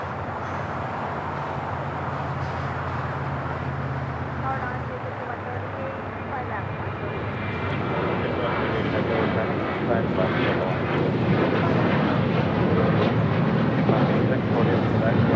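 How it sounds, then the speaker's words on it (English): An Alaska Airlines Boeing 737-900ER takes off from Los Angeles airport, its jet roar building gradually and growing louder over the clip, with radio chatter and a voice talking throughout. "This is Alaska Airlines 1348 taking off to Puerto Vallarta on a 737-900ER."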